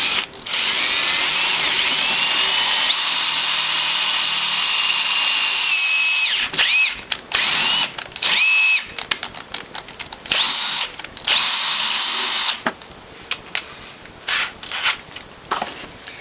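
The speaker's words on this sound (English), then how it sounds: "And then we'll drill the hole, tap it," A power drill bores holes in the brackets of a juicer base plate: long, steady high-pitched drilling runs, then a series of short on-off bursts with brief pauses between them, with no talk.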